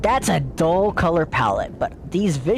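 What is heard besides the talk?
None of the usual background noises is heard.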